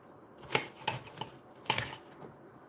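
A knife slicing through a cantaloupe, heard as a few short, crisp cutting strokes at an irregular pace, close up and fairly quiet with no talking.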